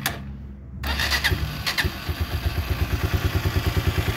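Starter motor cranking on a Rocketman Sport 250 motorcycle, a steady rapid whirring churn that kicks in after a short pause and keeps chugging rhythmically without the engine catching, close and fairly loud.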